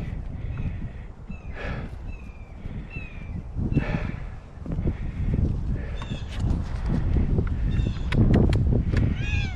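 A cat stuck up a tree in Mississippi gives repeated short meows, spaced out and fairly clear, over a rumbling outdoor background with scattered knocks and bird chirps.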